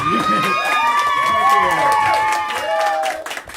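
A crowd at a live show in Arcata claps and cheers loudly, with overlapping shouts and whoops over steady applause lasting a few seconds before tapering off.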